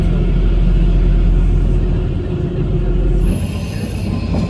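Kalka-Shimla toy train on the 96 km mountain line running through a tunnel, a loud, dense, continuous rumble of wheels and carriage with roaring low-end, heard from inside with windows closed.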